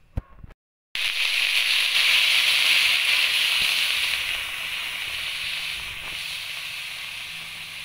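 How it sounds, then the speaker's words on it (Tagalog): Softened beef sautéing in a hot pan, a loud steady sizzling hiss that starts abruptly after a brief pause and continues evenly, easing slightly toward the end. "Guys, tapos igigisa na natin."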